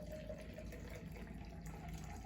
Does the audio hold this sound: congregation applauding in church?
no